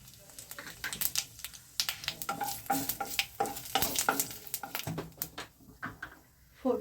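Bay leaves, dried red chillies and cumin seeds spitting in hot oil as a tempering for a bottle gourd and fish head dish, a busy crackle of quick pops and stirring taps up close with no talk.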